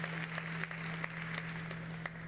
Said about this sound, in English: Let us please give President Glover one more round of applause for her outstanding leadership